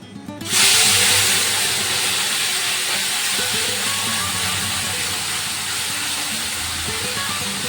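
Fish frying in a kadai bursts into a loud, sudden hiss as it hits the hot oil, then settles into a steady, close sizzle that continues unbroken to the end.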